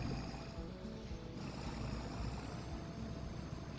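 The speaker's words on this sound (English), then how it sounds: "The best thing about old tractors is gotta be the sound." A classic Renault tractor engine in Farming Simulator 25 gives a steady, faint, low rumble that runs unbroken throughout, with no voices.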